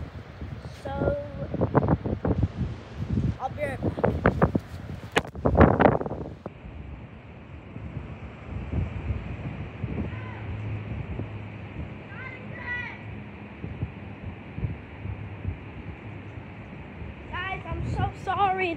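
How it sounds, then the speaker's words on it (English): Wind blowing outdoors at a backyard wiffle ball game, buffeting the microphone with low rumbling gusts, while people talk over it at the start and end. "The wind is very annoying."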